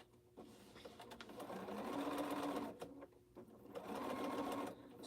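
A sewing machine stitches in two steady bursts of close, continuous mechanical whirring, with a short pause between them, during a quilting session.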